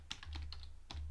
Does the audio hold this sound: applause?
no